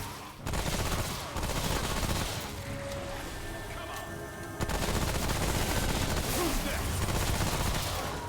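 Gunfire in the shooter Remnant From the Ashes: dense, loud, continuous shooting and impacts fill most of the stretch, easing briefly in the middle before resuming at full intensity.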